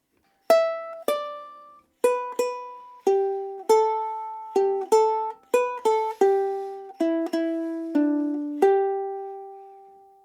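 Slow, plucked ukulele melody of Auld Lang Syne, bars 13 to 16 with the pickup, about a dozen clean single notes ringing out one after another, each decaying before the next, played alone and close.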